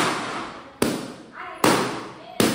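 Balloons popping one after another in three sharp, loud bangs as children burst them during a playful balloon game, each pop followed by a brief fading rustle.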